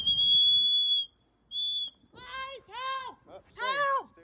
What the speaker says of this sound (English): She's blowing her whistle.